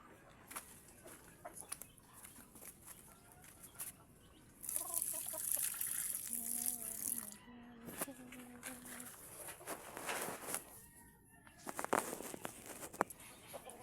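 Backyard chickens cluck and call intermittently at moderate distance, with soft rustling in between and a few louder clucks mid-clip.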